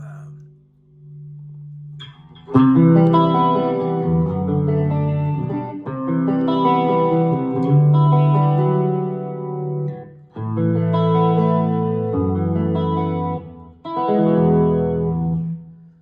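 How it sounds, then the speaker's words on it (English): Sustained electric guitar chords through a Tone Master Pro with dynamic delay, echoing repeats trailing each strum, played in several loud phrases with short pauses between them. "a little delay, a little dynamic delay."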